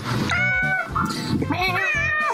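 A cat meowing loudly and close, several drawn-out, rising and falling cries in quick succession that fill the whole stretch.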